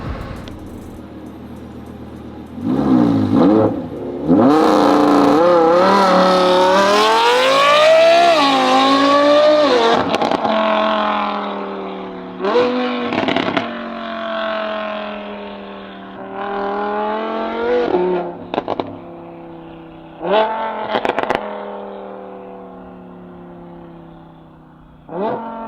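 Audi R8 V10 fitted with 5-to-1 headers, loud and close as it revs hard and pulls away, the engine pitch climbing through the gears before fading into the distance, with no talking.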